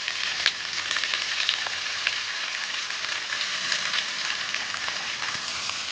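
Capsicum, onion and green chillies frying in hot oil for chilli chicken, a dense continuous crackling sizzle with scattered sharp pops, close and loud throughout.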